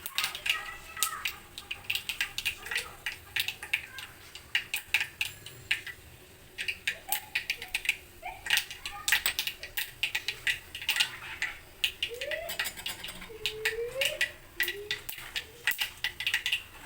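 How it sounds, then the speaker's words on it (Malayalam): Mustard seeds crackling and popping in hot oil for a ginger curry: a dense run of quick, sharp pops and spits throughout, steady and close, with faint bits of a voice now and then. "കടുക് നല്ലോണം പൊട്ടണം കേട്ടോ."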